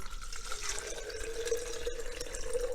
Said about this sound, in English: I'm going to pour it in the little bottle here.